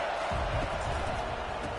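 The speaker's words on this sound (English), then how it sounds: "This crowd bringing the energy and noise early." A stadium crowd in the college football video game NCAA 25, Baylor game, roars as a broad, steady wash of noise during a short stretch, with faint voice-like murmurs under it.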